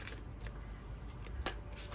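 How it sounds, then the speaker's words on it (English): A small deck of glossy, plasticky oracle cards being shuffled by hand gives quick riffling rustles with a few sharper snaps, close and fairly quiet. "I'm gonna shuffle it quickly."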